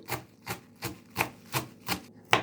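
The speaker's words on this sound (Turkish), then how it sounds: "İlk olarak şeker pancarı yapraklarımı minik minik doğruyorum ve kabıma alıyorum." Sugar beet leaves being finely chopped with a knife for saç böreği, seven evenly spaced crisp cuts about every third of a second, close and alone.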